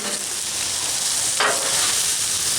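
Beef with orange pepper, carrots, red onion, mushroom and broccoli stir frying on a Blackstone griddle, a steady close sizzle throughout with a brief louder scrape or toss midway.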